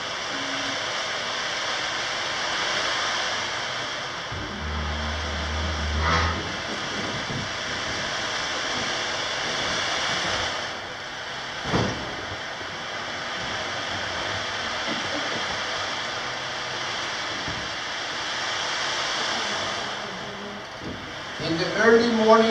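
An ocean drum is tilted and rolled to imitate ocean waves, producing a continuous loud wash of rushing, surf-like hiss that swells and fades over about twenty seconds, mostly alone with a few brief knocks.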